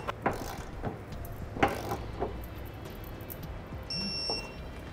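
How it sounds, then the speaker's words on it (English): A torque wrench clicks on trailer hitch fasteners being tightened to specification during a hitch installation on a 2011 Ford, giving a few faint, sparse ratcheting clicks and clunks with a brief beep near the end. "we'll be able to go around and torque them to the specification in the instruction manual."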